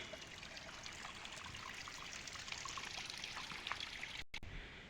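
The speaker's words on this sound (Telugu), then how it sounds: "ఎప్పటికీ వాటర్ వస్తూనే ఉంటుంది" Water of a village stream flows and trickles steadily, a continuous bubbling rush with no voices, briefly cutting out near the end.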